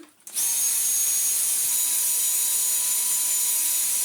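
A small Numatic toy vacuum cleaner switches on and runs with a steady, high-pitched electric motor whine, close and constant, with no talking.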